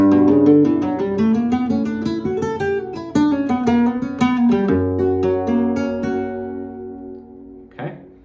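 Nylon-string flamenco guitar plays a quick soleá falseta phrase of rapid plucked notes in a triplet feel, ending on a ringing chord and a short strum.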